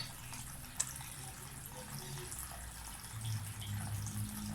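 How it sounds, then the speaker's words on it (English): A DIY tabletop water fountain trickling and splashing in a steady, soft wash close by, with one brief sharp tap early on and the flow swelling slightly near the end. "Water fountain, tabletop water fountain."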